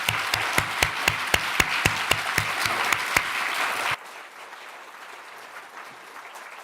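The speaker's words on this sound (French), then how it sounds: "Je crois qu'on peut l'applaudir." An audience applauding a speaker at a French lecture on Palestine, with rhythmic, evenly spaced claps over a steady bed of clapping that stops suddenly, leaving quiet room noise.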